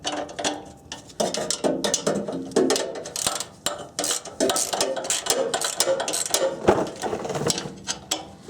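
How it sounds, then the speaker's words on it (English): Ratchet wrench tightening the muffler flange nuts on a 1994–1997 Honda Accord, rapid bursts of metallic clicking in repeated strokes with short pauses between, close and clear. "You want to tighten the nuts evenly until the flanges come together."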